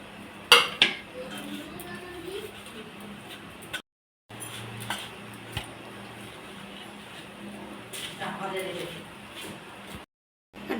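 Semolina dough being kneaded together with boiled potato by hand in a bowl, soft squelching and pressing with occasional utensil clinks against the dish, close and quiet, with brief silent gaps.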